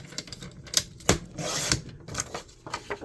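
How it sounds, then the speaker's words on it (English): Paper cover being cut down to size with a paper cutter or scissors: a series of sharp crisp snips and slicing swipes, close and fairly quiet, irregularly spaced with one longer rasping cut in the middle. "So I'm going to go ahead and cut this down to 7 inches."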